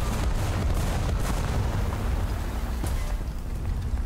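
Artillery fire in War Thunder, heard from inside a Soviet M4A2 Sherman tank, a constant heavy rumble broken by several distant booming blasts, with no speech over it.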